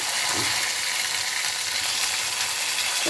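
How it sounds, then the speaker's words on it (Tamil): Chopped country tomatoes sauté in leftover oil, giving a steady, close sizzle and hiss that runs evenly throughout, with a few faint stirring scrapes. "இந்த மிச்சமான எண்ணெயிலேயே நம்ம கட் பண்ணி வச்சுருக்கிற தக்காளிங்களையெல்லாம் வ வணக்கிக்கலாம்"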